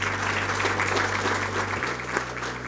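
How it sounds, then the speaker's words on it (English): An audience applauds Dr. Indimi for a tremendous achievement, steady crowd clapping at moderate volume with a low hum underneath, continuing evenly throughout. "join me in giving an applause to Dr. Indimi for this tremendous achievement"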